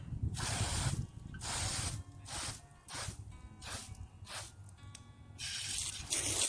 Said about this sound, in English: So let's turn on the valve.